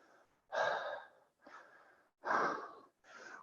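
Deep, slow breaths during a yoga exercise: four audible inhales and exhales, close and airy, alternating louder and softer with quiet gaps between.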